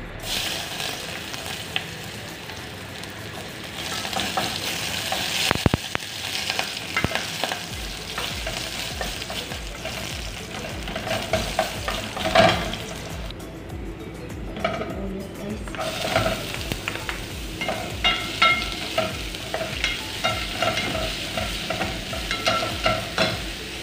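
Loud sizzling as garlic sautés in a hot pan, with scraping stirs and pan clatter throughout, no talking.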